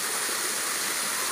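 A waterfall pours in a dense, continuous hiss of falling water, steady and fairly loud with no other sounds.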